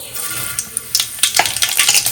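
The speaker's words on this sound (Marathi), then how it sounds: "इथे तेल तापत ठेवलं आहे. ह्याच्यात आतमध्ये आपण राई जिऱ्याची फोडणी देऊया." Oil sizzling and crackling as mustard and cumin seeds pop in a rapid, irregular patter, close and fairly loud.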